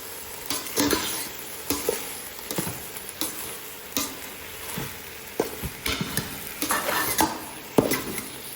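Noodles are stirred and tossed in a pan with butter or coconut oil, producing a run of close, uneven scraping and clinking strokes against a soft frying hiss, with no voices.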